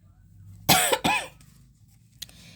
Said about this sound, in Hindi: एक मेरी खांसी ठीक नहीं हो रही है